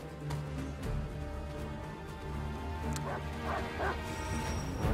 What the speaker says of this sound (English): Guess I'll go and fight those dogs then.